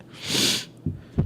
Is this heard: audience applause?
no